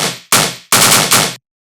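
A heavy gunshot-style bass synth in the manner of Marauda, built with Serum and saturation soft-clipped at the end, blasts four loud, distorted, full-range hits in quick succession, each a sharp attack with a gritty sustained tail, then cuts to silence.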